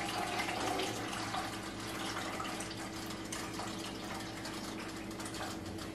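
Water pours steadily into a pot of carrots being prepared for home canning, a continuous close splashing rush that holds for the full stretch with no talking.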